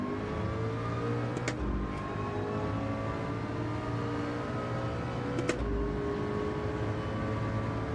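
Formula race car engine in a racing video game, a steady droning whine holding throughout with two brief sharp revving spikes, loud and continuous with no talk over it.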